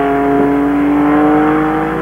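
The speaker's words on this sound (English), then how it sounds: "As they go out the corner, they're getting into third gear." Race car engine in the 1974 IROC race at Daytona, a loud, steady roaring drone held close throughout as the car pulls hard, with no voices present.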